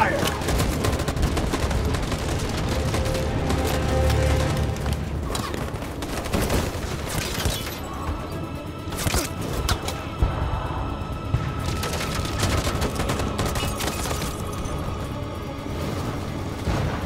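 A gunfire volley in the video game Detroit: Become Human: dense, continuous bursts of shots and heavy booms, loud and sustained throughout, with scattered voices under the barrage.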